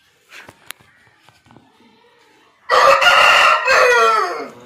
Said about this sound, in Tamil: ஏய்யா அஞ்சு கோழி இங்க வர